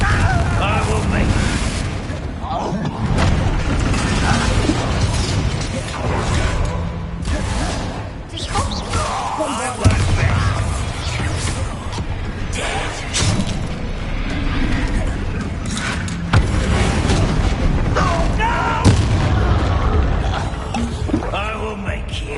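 Bombarda and Confringo spells explode during combat in Hogwarts Legacy, producing dense, continuous heavy booms and blasts layered with game effects across the whole stretch.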